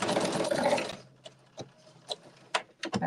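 A sewing machine runs a fast continuous burst of stitching for about a second while sewing a pattern, then stops, leaving a few soft clicks and handling taps.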